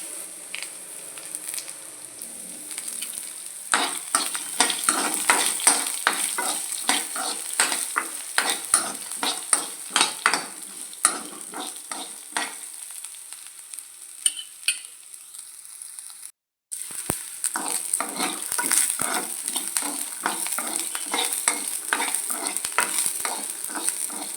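Curry leaves crackle and sizzle in hot oil in a pan while preparing Rayalaseema-style uggani, with steady frying hiss, scattered sharp pops and occasional stirring scrapes close by, a brief silence partway through.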